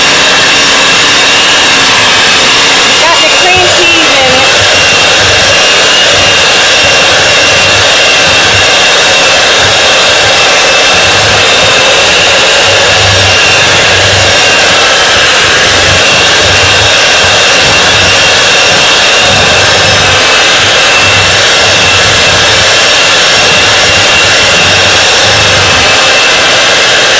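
An electric mixer whips cream cheese into mashed potatoes, a loud, constant high-pitched whirring drone that runs without a break for nearly half a minute and covers everything else.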